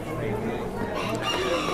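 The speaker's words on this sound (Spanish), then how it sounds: "Ya vamos a empezar a grabar a los gallos que van a participar." Roosters crowing at a fighting rooster expo in Houston, the calls dense and overlapping amid a busy crowd with chatter throughout.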